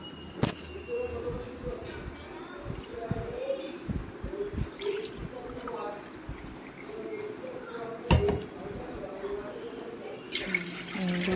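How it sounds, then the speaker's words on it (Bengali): Water poured cup by cup into a measuring cup for chicken biryani, a running splash with intermittent clinks and knocks, while someone talks over it. "এবার আমি জলটা মেপে মেপে নিয়ে নিচ্ছি, পুরো ভরে ভরেই আমি নেব জলটা।"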